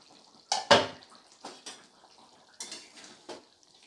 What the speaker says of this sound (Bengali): আমি ঢাকাটা খুলে একবার চেক করে নেব।